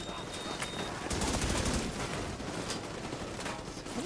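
In the Division 2 Expedition at a metro station, bursts of gunfire crackle in quick rapid runs, and the volleys swell and fade over a few seconds with a continuous fusillade in the background.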